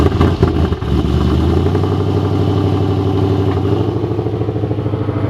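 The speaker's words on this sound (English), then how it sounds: "And this will be the startup on the Ghost Cam tune. And this is how it starts up." A Ford Mustang S550 with a Ghost Cam tune fires up from a cold-ish start, settling into a loud, steady idle with a pronounced lopey, choppy rhythm close to the mic.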